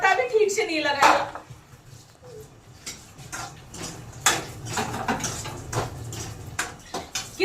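Pots and dishes being washed in a home kitchen, with scattered clinks and knocks of metal and crockery, sharp and close, while someone talks over them at intervals.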